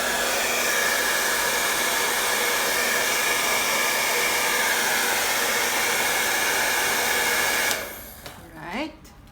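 A hair dryer blows steadily at close range to dry acrylic paint on a canvas, a loud constant whoosh that cuts off near the end, leaving faint handling noise.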